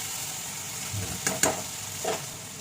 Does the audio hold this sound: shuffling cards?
no